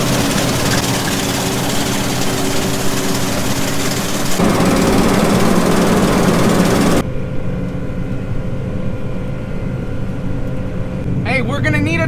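A combine harvester cuts wheat in a humid field, its engine droning loud and steady with a low rumble, while a voice talks over it and the tone shifts partway through.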